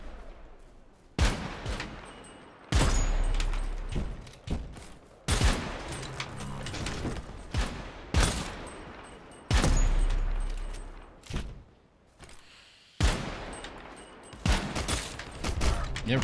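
Sniper rifle fire in the video game KOMPETE: a series of loud, booming shots every few seconds, each trailing off in a long echoing decay, with no talking.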